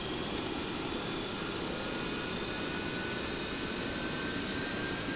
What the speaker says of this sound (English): And I believe we have good engine start.